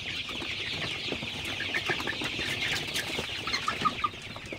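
Chickens on a poultry farm in hot weather cluck and chatter in a steady, moderately close flock, with scattered sharper clucks rising over a dense, busy background of birds.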